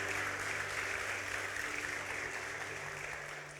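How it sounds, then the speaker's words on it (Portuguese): A church congregation applauds during a Sunday sermon, a dense, steady wash of clapping that sounds distant and fairly faint, holding even throughout. "Pode aplaudir a Jesus, pode aplaudir a Jesus."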